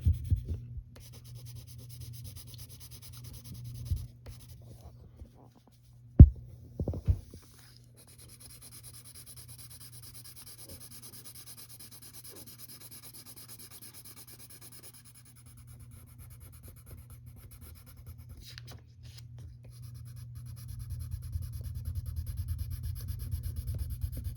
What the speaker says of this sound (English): if you're using a pencil, just use the side and take your time.